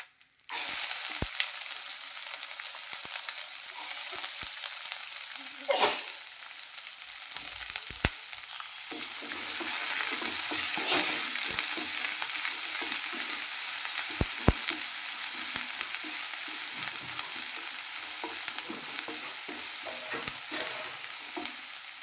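Chopped onion with curry leaves fries in a pan for a Nanjil-style banana stem thoran, giving a steady, continuous sizzle broken by occasional scraping stirs, with no talking.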